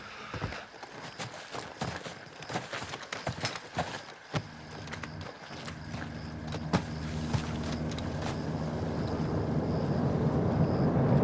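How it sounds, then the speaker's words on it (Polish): In the video game Call of Duty: Modern Warfare II, a helicopter approaches as a broad rotor roar that builds steadily louder over earlier scattered clicks and clattering effects. "Zbliża się śmigłowiec. Wygląda na zrzut zapasów."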